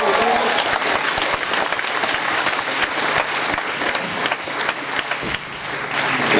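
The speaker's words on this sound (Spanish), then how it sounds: "quiero que reciban con un fuerte aplauso al pastor Orlando Hernández" Loud, sustained applause from a church congregation welcoming a pastor at a worship night, dense clapping filling the room for several seconds without a break.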